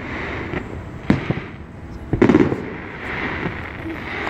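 Fireworks go off outside on the third of July, several distant booms and crackling pops at irregular intervals over a low background hum, fairly faint.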